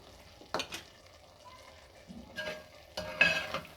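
Sweet vermicelli (seviyan) is stirred in a pan: soft scraping strokes of a spoon over a faint sizzle, a few distinct movements in a quiet room.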